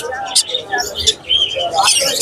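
Pet birds such as parakeets, mynas and Alexandrine parrot chicks chirp in short, bright bursts at the Mirpur bird market, several calls overlapping amid busy market noise and nearby chatter.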